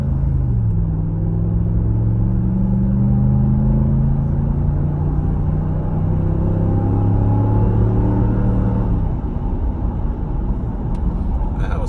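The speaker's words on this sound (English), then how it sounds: "Full throttle at 50 miles an hour." A 2019 Ram 1500 pickup with stock exhaust pulls at full throttle from about 50 mph, a loud steady low engine drone inside the cab with rising tones that cut off near the end.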